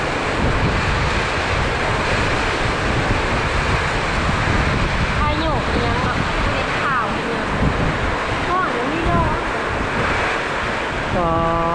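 Strong wind gusting in a thunderstorm around a mango tree, a dense, continuous roar close to the microphone, with faint voices talking underneath.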